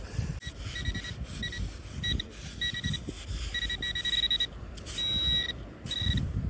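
X-Terra Elite metal detector sweeping over a piece of aluminium, giving repeated short high two-tone beeps in irregular bursts over outdoor background noise.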